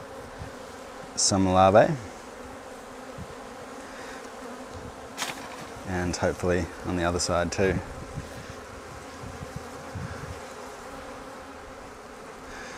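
Honey bees buzz steadily around an opened Flow Hive during a hive split, a close, continuous hum, while a person talks quietly in a few short bursts over it.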